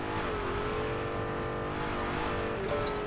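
A car in the LEGO 2K Drive video game drives with a constant engine drone and revving, ending in a brief tire squeal, steady and loud with no talking.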